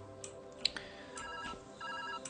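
An incoming call rings on a phone in the puzzle game Viewfinder, a quiet, steady electronic ringtone with a few short chimes repeating over a soft background hum.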